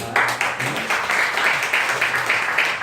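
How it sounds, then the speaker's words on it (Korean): A church congregation claps during a worship service sermon, a dense, even burst of many hands with a rhythmic pulse, lasting about three seconds with no voices over it. "박수 한번 쳐요."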